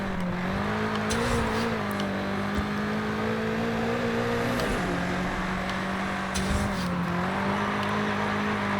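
A 2020 BMW M8 Competition coupe drifting, its engine holding a steady droning note that dips and recovers around mid-clip, with bursts of tire noise and road roar from inside the car.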